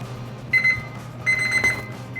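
Kitchen timer alarm beeping in two short bursts of rapid high electronic beeps, separated by a brief pause, clear and close beside a Weber grill while chicken and vegetable skewers cook, with no talk over it.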